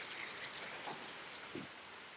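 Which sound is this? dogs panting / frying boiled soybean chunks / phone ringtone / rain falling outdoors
rain falling outdoors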